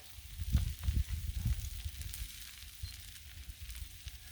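Collard greens sizzle on a Blackstone griddle, the frying loud and crackly at first with a few sharp bursts, then easing to a softer, steady hiss.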